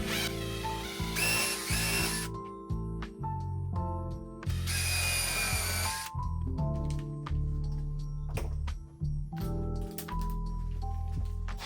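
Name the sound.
drilling with countersink bit and driving screws into wooden ledge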